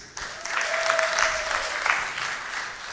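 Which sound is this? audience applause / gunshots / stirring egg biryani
audience applause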